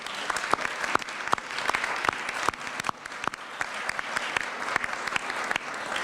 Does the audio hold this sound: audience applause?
yes